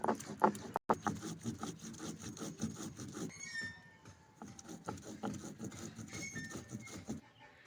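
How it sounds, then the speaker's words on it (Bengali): Cumin seeds being ground by hand on a flat grinding stone, a close, steady scraping and rubbing with rhythmic back-and-forth strokes and a brief pause midway. "এবার জিরেটা বেটে নেব।"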